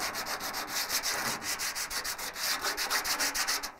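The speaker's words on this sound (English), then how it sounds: "I'm going to go into some of these areas and use the sandpaper on it a little more." Sanding car paint off bodywork with 40 grit sandpaper: rapid, rhythmic rasping strokes, roughly four or five per second, close and steady with no talk.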